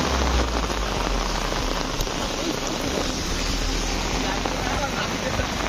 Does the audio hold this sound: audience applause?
no